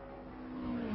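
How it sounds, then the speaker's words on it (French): Dan Gurney's Eagle Formula 1 car at the 1966 French Grand Prix passing by: a brief, faint, rising engine whine that swells in loudness toward the end of the pass. "Voici l'Eagle de Dan Gurney qui passe"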